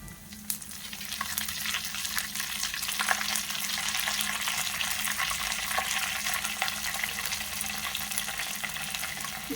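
Curry leaves and cumin seeds frying in hot oil for avarekalu chitranna, a dense close crackle and sizzle that holds steady for several seconds, with faint stirring and no voices.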